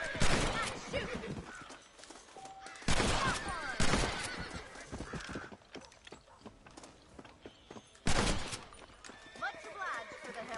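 Horses in the video game Red Dead Redemption whinny and neigh in several loud bursts, mixed with clip-clopping hooves and mechanical game sounds, with speech also present.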